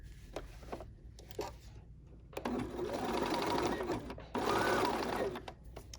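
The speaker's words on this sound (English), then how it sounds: "but I'm sewing over some fur" A sewing machine stitches through fur fabric for an infinity scarf, running in close, steady whirring bursts that stop and start between short pauses.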